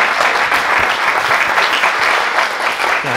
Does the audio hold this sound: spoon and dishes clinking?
no